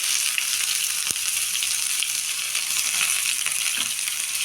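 Onion frying in a spoonful of oil with mustard seeds and cumin, a dense continuous sizzle close up with a couple of light stirring knocks and no voices.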